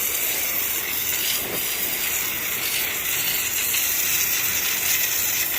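A pressure washer gun fitted with a spinning turbo nozzle sprays water in a loud, steady hiss. The rushing sound is close and continuous throughout, with no speech.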